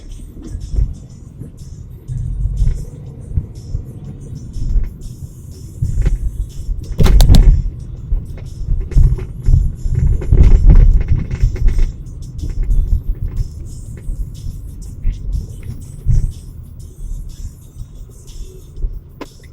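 A car drives through Leeds city centre, its low engine rumble and road noise steady throughout with a few louder surges and knocks, heard from inside the vehicle.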